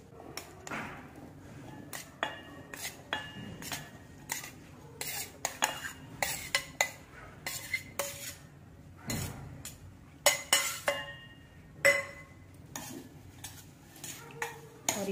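A spoon stirring flour and sweet corn in a bowl, giving repeated close clinks and scrapes of cutlery against the dish at an uneven rhythm, with quiet gaps between bursts and no talking.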